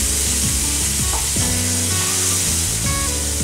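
Chili powder is stirred into a gravy for Bengali doi potol (pointed gourd in yogurt) as it fries in a pan. A loud, steady sizzle runs throughout, close up, with no talk.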